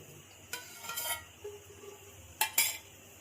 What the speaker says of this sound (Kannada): ಇವಾಗ ಒಗ್ಗರಣೆಗೆ ಒಂದು 4-5 ಸ್ಪೂನಷ್ಟು ಆಯಿಲ್ ಹಾಕೋತಾ ಇದ್ದೀನಿ ನಾನು.